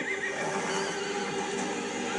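A horse whinnies in a TV drama, a single loud, wavering neigh lasting about two seconds with no voices over it.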